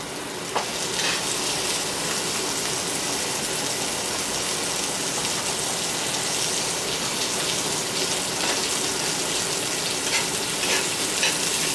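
Chicken breast frying in a pan of coconut oil and butter gives a loud, steady, dense sizzle with occasional faint crackles, continuous for the whole stretch with no talking.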